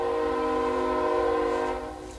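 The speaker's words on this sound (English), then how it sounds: "Train. Sorry about that." A passing train sounds a long, loud, steady horn blast with a rich chord-like tone, which holds and then fades off at the end without any talk.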